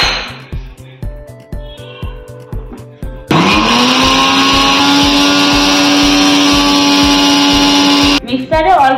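A kitchen mixer grinder roars to life and whirs loudly and steadily while blending green chilies and coriander into paste, then cuts off. Irregular clicking and tapping come before it starts.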